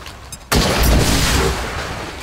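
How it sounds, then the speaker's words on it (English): A plasma grenade from XCOM 2 detonates in one sudden loud blast after a brief quiet, then a rumbling roar that slowly fades. "Well, throw a plasma grenade."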